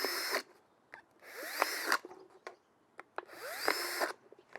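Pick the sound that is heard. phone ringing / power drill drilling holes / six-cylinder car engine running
power drill drilling holes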